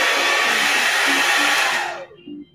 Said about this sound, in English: just take your blow dryer